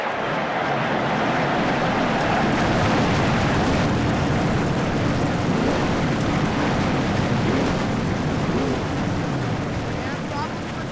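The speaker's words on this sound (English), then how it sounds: "Drivers, start your engines." Stock car engines roar to life at Pocono Raceway in a Cup Series racing video game, a dense, loud, continuous rumble that fills the whole stretch.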